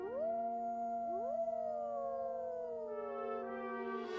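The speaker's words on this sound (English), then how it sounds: "and occasionally wolves howled" Several wolves howl together in long, sliding, overlapping tones over a steady low hum, the chorus swelling and wavering at a moderate distance on the open plains along the North Platte.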